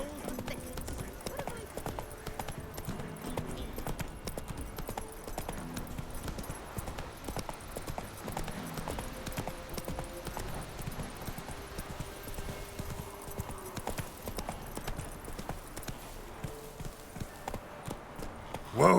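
Hooves of Roach, the horse in The Witcher 3 game, clopping in a steady rhythmic trot for the whole stretch, close and clear, with a voice talking briefly over it and game music faintly beneath.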